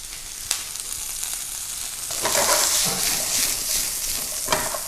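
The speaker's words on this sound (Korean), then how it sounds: "센 불에서 다 한꺼번에 넣고 볶아줍니다." Vegetables stir-frying all together in an oiled pan over high heat, a steady loud sizzle that swells midway as the ingredients are tossed, with a few sharp clicks of utensil against pan and no talking.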